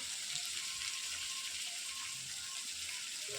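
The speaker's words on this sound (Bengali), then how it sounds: "এবারে টমেটো কুচিটা দিয়ে আমি নাড়তে থাকবো।" Chopped tomatoes and onions fry in a pan while being stirred, giving a soft, steady sizzle with faint scraping underneath, quiet and continuous with no talk.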